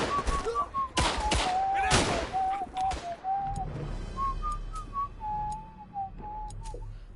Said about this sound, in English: I was whistling a completely different song